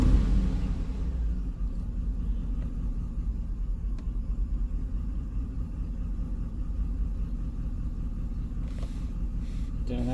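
A Cadillac Escalade engine idles with a cylinder 2 misfire, producing a steady low rumble with an uneven, stumbling pulse. Scattered faint clicks and a brief scrape are heard near the end.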